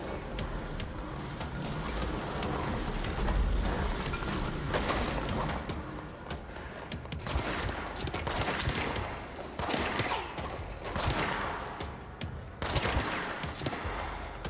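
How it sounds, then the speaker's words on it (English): Dense bursts of distant video game gunfire crackle repeatedly over a rumbling, noisy background, with sharper volleys breaking through now and then, in the game Control. "I hear gunshots."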